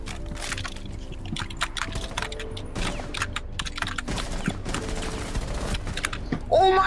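Rapid gunfire bursts in a Rainbow Six Siege 1v1 match, sharp repeated shots with keyboard clatter, mixed with game noise and talking over it, ending in a louder burst.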